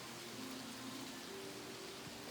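Rain falls steadily outside a workshop as a faint, even hiss with no distinct drops.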